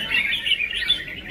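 A red-whiskered bulbul sings at a songbird competition, a bright run of chirps and warbled phrases, close and clear over a faint background hum, with no talk.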